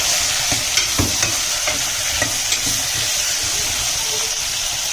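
Vegetables, including long-cut tomatoes, fry and get stirred in a pan for sambar, making a loud, continuous close sizzle and hiss punctuated by light scraping and tapping from the spoon.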